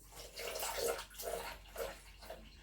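Water poured in several surges for orange syrup with cloves, a close splashing, gurgling flow that swells and eases in short waves, with no talking.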